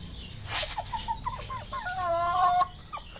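Chickens cluck repeatedly at close range, with short rising and falling calls overlapping in an uneven rhythm and no talking.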